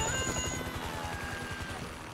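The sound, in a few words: helicopter approaching in Grand Theft Auto 5 video game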